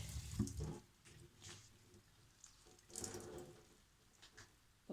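Water trickles and splashes softly from a tap to wet tissue paper wrapped around a mango seed. There is a louder burst at the start and a faint, intermittent flow after it, close and quiet.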